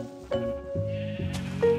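Minecraft sheep bleating in short, nasal calls, several bleats in quick succession, close and clear with no talking over them.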